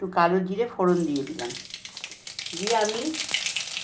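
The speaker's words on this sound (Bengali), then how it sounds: "তেলটা গরম হয়ে গেছে। আমি এতে একটু কালো জিরে ফোড়ন দিয়ে দিলাম।" Nigella seeds tempering in hot oil for a bean curry, bursting into a sudden bright sizzle just after a spoken phrase and continuing under further talk.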